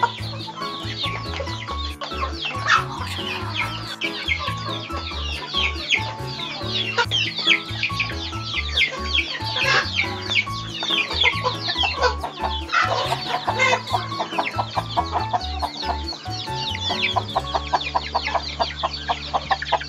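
A flock of chickens in a coop clucks and chatters continuously, with many overlapping close and mid-distance calls at a steady, busy rhythm and no talking.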